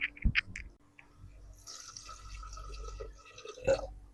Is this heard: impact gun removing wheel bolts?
no